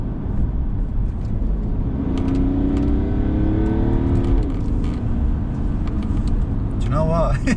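A BMW E60 535d diesel revs up sharply, its engine note rising in pitch under throttle and then dropping back, with people talking over it throughout.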